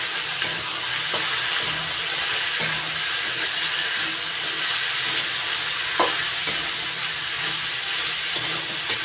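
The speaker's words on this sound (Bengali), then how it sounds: "এবার নাড়াচাড়া করে ভাজা ভাজা করে নেব।" Winter vegetables with turmeric and salt fry in a pan, giving a steady sizzling hiss throughout, with a few soft clicks and scrapes as they are stirred.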